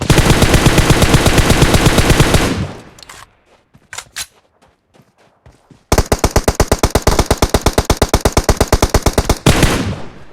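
Rapid automatic gunfire in PUBG Mobile on the Livik map, two long loud bursts of fast repeated shots separated by a quieter gap with a few scattered single shots.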